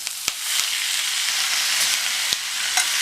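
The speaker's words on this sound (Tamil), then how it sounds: "இந்த வெங்காயம் கொஞ்சம் வதங்கின உடனே சௌச்சௌவை சேர்த்துக்கலாம்." Chopped onion and chow chow (chayote) with curry leaves sauté in a pan, a steady close sizzle with a few sharp clicks of a spoon stirring against the pan.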